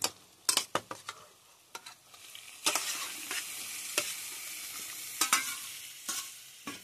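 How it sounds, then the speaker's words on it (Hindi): Goat tripe and liver frying in masala, stirred with a spoon in a pan: repeated scraping clatters over a steady, close sizzle, with no talk. "अब इसमें जाएगा पोटा एंड कलेजी। डालो थोड़ा कलेजी।"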